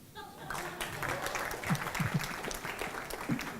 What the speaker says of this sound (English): Ladies and gentlemen, a round of applause for me.